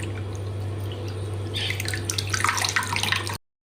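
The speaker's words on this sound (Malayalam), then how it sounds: "നല്ലതുപോലെ വെള്ളം കളഞ്ഞ് പിഴിഞ്ഞ് മാറ്റി വെക്കാം." Soaked soya chunks squeezed by hand, water dripping and splashing into a bowl in a short burst of wet patters that grows busier toward the end, close up over a steady low hum.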